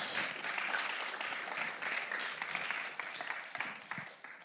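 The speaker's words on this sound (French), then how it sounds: "On l'applaudit." An awards-ceremony audience at the Prix EMI 2024 applauds a media-category nominee, Milan Presse's Mon permis smartphone, with dense, steady clapping that fills the room for several seconds before easing slightly.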